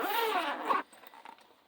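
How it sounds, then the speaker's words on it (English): A zipper on the bottom of a bag is pulled in one quick, close rasping stroke lasting under a second, followed by a few soft rustles. "And also, it has a zipper bottom."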